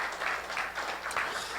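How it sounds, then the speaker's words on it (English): A short burst of audience applause at a college pitch competition event, moderately loud clapping that swells and holds for under two seconds. "How about a nice round of applause for yourselves and all of those groups?"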